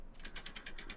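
Rapid, evenly spaced mechanical clicks like a ratchet, about five or six in a second, crisp and close with no talking: a roller coaster chain lift in the video game Parkitect.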